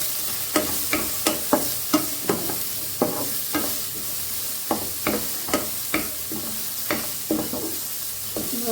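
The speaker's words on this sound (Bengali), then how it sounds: "এটাকে আমরা ভাজি করে নেব।" Vegetables frying in a pan with a pinch of turmeric for Bengali-style pasta, a bed of sizzle punctuated by a regular series of sharp spatula scrapes and taps against the pan, close and unaccompanied by voices.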